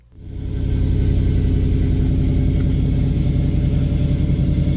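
An 8hp-swapped Jeep Wrangler starts off on a drive. The engine swells within the first half second into a loud, steady, close rumbling drone that holds evenly throughout, with no voices.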